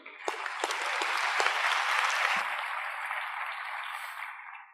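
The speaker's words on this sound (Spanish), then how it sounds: "Un fuerte aplauso para Guy." An audience at a public forum claps in a burst of applause that swells and then gradually thins out, with a few sharp individual claps at the start.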